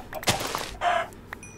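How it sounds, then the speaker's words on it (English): Short chicken clucks and squawks pop up in Minecraft, brief and fairly close, with a soft thunk between them. "Some of these chickens."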